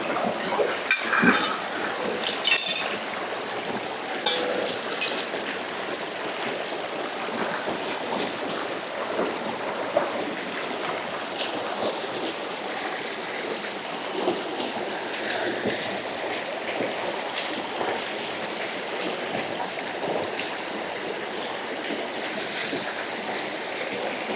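A pot and utensils are washed in a river in Portland, Jamaica during bush cooking. Steady flowing water runs throughout, with scattered clinks and splashes that come thickest early on and are heard close and moderately loud.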